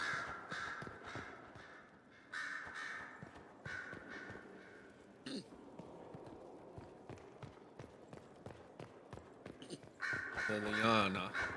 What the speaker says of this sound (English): Oh, these birds just love being loud.